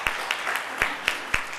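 Scattered applause in a school board meeting room as students are recognized, a dense patter of clapping with periodic sharper claps standing out, moderately loud and continuous throughout.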